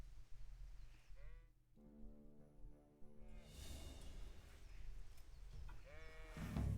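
Sheep bleating in the medieval role-playing game Kingdom Come: Deliverance, a couple of wavering bleats rising over quiet game ambience and music, moderately close with no talk.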